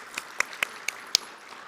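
Audience at a civic event applauding mayors Abdullah H. Hammoud and Bill Bazzi, heard as a handful of sharp, separate handclaps spaced unevenly over a quiet room.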